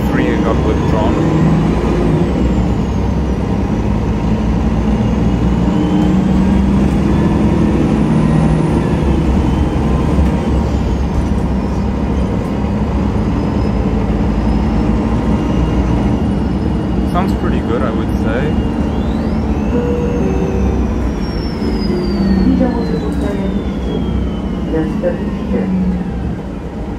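A MAN NG313 articulated city bus engine rumbles steadily nearby in Ljubljana, with rising and falling whines and a hiss of air as it brakes, under continuous traffic noise.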